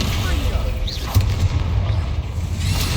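A Descendo spell lands in the video game Hogwarts Legacy with a continuous rumbling boom and dull thuds under a noisy game soundscape.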